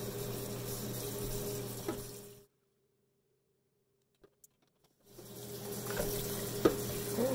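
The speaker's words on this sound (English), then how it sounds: "So let me continue to rinse this butter" A kitchen tap runs steadily into a sink while homemade butter is rinsed, a close hiss that cuts off to near silence for a few seconds with faint clinks, then starts flowing again.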